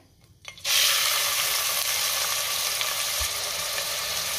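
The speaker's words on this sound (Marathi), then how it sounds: "तेल गरम झाले, दालचिनी घालते, त्यातच तमालपत्र घालायचे आणि बारीक चिरलेला कांदा घालायचा आहे।" Chopped onion, cinnamon and bay leaf drop into hot oil and break into a loud, steady sizzle that continues evenly after a brief quiet start, with no voices.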